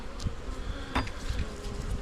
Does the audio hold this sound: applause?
no